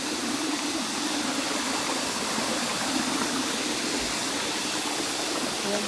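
Water flowing steadily through a stream channel at a mountain resort with water terraces, a continuous even rushing hiss up close with no breaks or voices.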